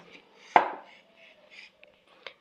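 A knife cuts through taro flower (kochu ful) with one sharp, close chop against the board, followed by a few faint taps and light handling sounds in an otherwise quiet kitchen.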